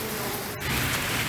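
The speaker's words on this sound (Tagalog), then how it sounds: "bumuhos ang malakas na ulan kaninang hapon sa ilang lugar sa Metro Manila" Heavy afternoon rain pours down in Makati, Metro Manila, a dense, steady hiss of downpour filling the scene without a break, fairly close and loud, with no voices.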